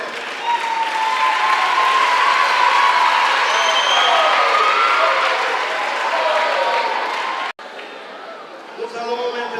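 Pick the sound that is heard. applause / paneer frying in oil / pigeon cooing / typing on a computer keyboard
applause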